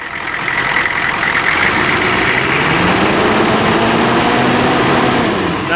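A cold 6.5 turbo diesel engine runs after cranking with a loud, close, rough rumble and uneven sputtering throughout, steady in level for several seconds.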